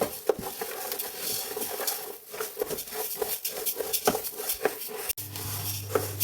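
Coriander seeds roasting with fennel seeds and curry leaves in a pan, stirred continuously, give a steady dry patter of rattling and scraping with frequent small clicks, close and moderately loud, without speech.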